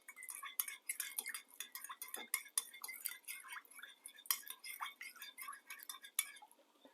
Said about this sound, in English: We're just going to mix that all up until all the salt is dissolved